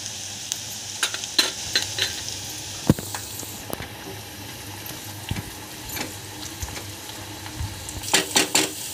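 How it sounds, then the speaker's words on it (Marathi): Onion fries in oil with salt and turmeric for gavar thecha, a soft steady sizzle under repeated scraping stirs of a spoon against the pan, with no talking. "कांदा आपल्याला चांगला भाजून घ्यायचा आहे तेलामध्ये, रंग बदलेपर्यंत."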